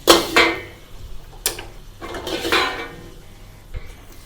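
Whole garlic cloves stir-fried in a wok, heard as a few loud metallic scrapes and clanks of a spatula against the wok with a soft frying hiss between them, close and with no voices.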